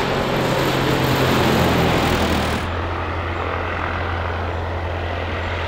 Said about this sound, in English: This is a PA 28181 aircraft manufactured by Piper and introduced in the late 1970s.